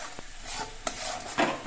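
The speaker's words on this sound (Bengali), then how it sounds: "আর এই সময়টাতে কিন্তু অনবরত নাড়তে হবে, একটু নাড়া বন্ধ করলে হবে না।" Thickened milk filling being stirred in a pan over low heat, with a few soft scraping strokes and light clinks of the spoon against the metal, close and fairly quiet, a louder scrape at the end.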